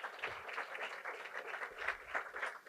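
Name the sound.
audience round of applause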